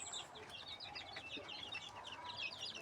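Several sick chicks with a cold peep and cluck softly and continuously at close range, a busy mix of small high calls over a faint background.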